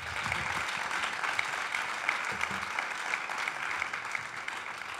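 Steady applause from a seated audience at a startup meetup in Madrid, dense and continuous clapping filling the room for several seconds at moderate level.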